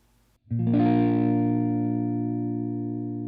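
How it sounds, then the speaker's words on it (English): A single long guitar strum rings out with a sharp attack, then sustains and slowly fades as the chord holds; no talking. "And just doing a nice long strum on that one."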